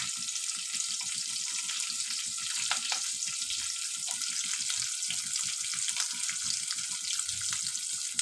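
Chopped onion and garlic fry in hot oil in a home kitchen, a soft, steady sizzle with scattered crackles and pops, faint and continuous with no voices.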